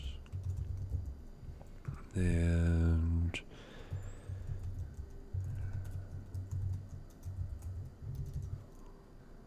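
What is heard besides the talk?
typing on a small computer keyboard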